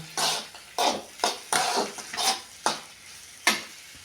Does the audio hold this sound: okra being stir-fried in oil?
yes